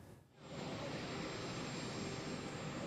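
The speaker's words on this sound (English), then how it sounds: "Yes, Allie, we see the plane coming on the runway right now" Air Force One, a large jet airliner, approaching the runway for landing, heard from a distance as a steady, broad engine roar that swells in after a brief lull and holds constant, with no talk.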